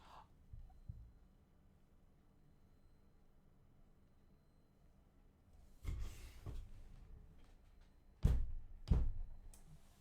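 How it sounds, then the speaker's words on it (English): Two dull thuds land near the end, a heavy knock followed quickly by another, like a head striking a desk during a Minecraft fishing session, preceded by quieter bumps and low room hiss. "I banged my head against the desk."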